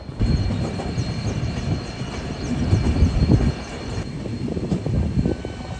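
A train runs past on a railway line near Bengaluru, with a steady rumbling roar and faint rhythmic clatter of wagons that stays loud and close for several seconds, no voices.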